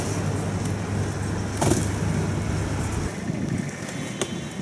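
A vehicle overloaded with stacked boxes pulls away, a steady rumbling engine drone with a brief louder knock midway, road noise continuing as it moves off.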